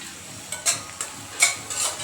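Raw green peas tipped into a cooking pan while preparing malai methi paneer give a few short scattered rattles and soft sizzles, close up, with quiet gaps between them and no one talking.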